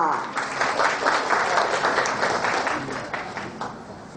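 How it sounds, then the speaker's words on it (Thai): Audience applause welcoming a speaker at a trade promotion clinic event in Hat Yai, a full, even spread of many people clapping together, loud and sustained, tapering slightly at the end. "ขอเสียงปรบมือต้อนรับด้วยค่ะ"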